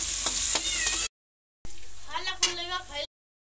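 Onion and vegetables fry for macaroni pasta in a hot pan, a steady close sizzle that breaks off briefly and returns, with someone talking over it.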